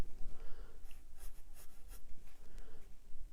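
A sharpened graphite pencil shades dark strokes on paper during a drawing exercise, giving a close, steady scratching with brief brighter rasps as strokes change direction, with no voices.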